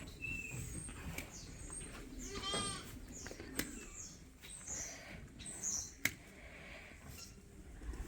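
On a sheep farm during a difficult move of the flock, a sheep gives a wavering bleat amid scattered quieter animal calls and rustling, soft and somewhat distant.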